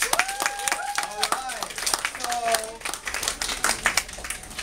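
An audience at an Art Bruh event claps for the Asian Health Services Youth Program, with loose, scattered hand claps alongside voices and a few cheers.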